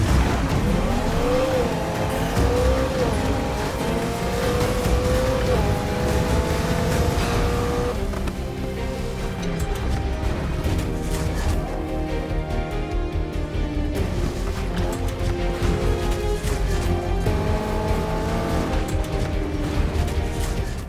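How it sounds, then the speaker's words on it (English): An engine-swapped BMW M3 drives in Need for Speed Heat, its engine revving and shifting through climbing gear pitches. Later the car settles into a dense, steady engine roar with tire and mechanical noise, all loud and continuous with no talk. "Let's take the M3 out for a spin just to have some fun."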